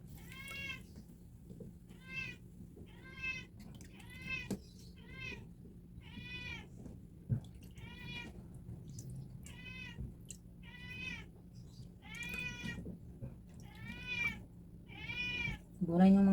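Repeated cat meows in a kitchen, about a dozen fairly regular calls, over a steady low background hum with some clatter.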